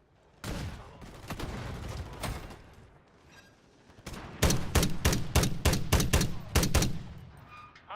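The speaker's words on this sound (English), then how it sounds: "Friendly remote turret deployed." Remote turret gunfire in Call of Duty MW Zombies: sustained rapid bursts near and loud, building into a dense run of sharp, evenly spaced shots in the second half.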